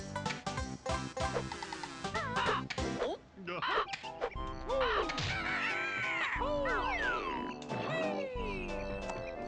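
Harsh, repeated bird caws from Banjo-Kazooie ring out among busy, cartoonish game sounds and music, several calls in quick succession at close range.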